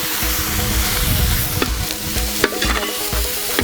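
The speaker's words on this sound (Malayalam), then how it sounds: "പച്ചമുളക് ഇതിനെ കൂടെ ചേർത്ത് നല്ലപോലെ വഴറ്റി കൊടുക്കാം." Ginger, garlic and green chili sautéing in oil in a pan for a Kerala-style rabbit roast, with a steady loud sizzle and repeated scraping stirs close by, no voices.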